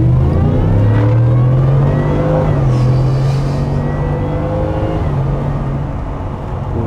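A 600-horsepower 2021 Ford F-150 pickup, weighing 2.5 tons, accelerates hard, its engine a loud, steady low roar heard from inside the cabin that climbs slightly in pitch, shifts once, then holds on the open road.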